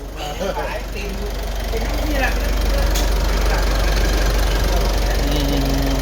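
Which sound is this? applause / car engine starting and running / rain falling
car engine starting and running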